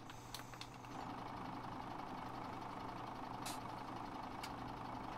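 Tractor engine in Farming Simulator 17 droning steadily at a low idle-like rumble, continuous and moderately loud with no talk.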